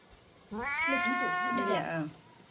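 A cat gives one drawn-out, rising and falling meow lasting about a second and a half, close and fairly loud, with no talk over it.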